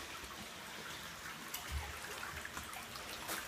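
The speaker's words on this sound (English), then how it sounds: "I love how the water starts dripping through here." Water drips and trickles inside a dark water tunnel, faint scattered drops over a soft, steady wash of running water, with no voices.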